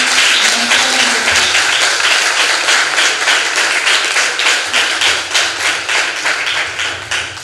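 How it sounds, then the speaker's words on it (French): A church congregation applauds a pastor at the close of a weekend retreat for singles, loud rhythmic group clapping with a steady beat, almost in unison, filling the room throughout. "Nous vous demandons d'applaudir vraiment pour notre frère"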